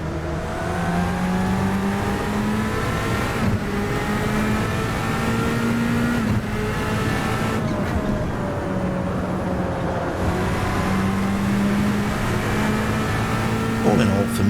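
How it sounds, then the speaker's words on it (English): Twin-turbo V8 of an open-top Audi R8 in the Assetto Corsa racing game, a raspy engine note climbing steadily through the revs with several sharp, aggressive upshifts cutting the pitch, under constant wind noise. "raspy tone of the twin-turbo V8 is represented very well in the VRC version, as are the aggressive sounding upshifts"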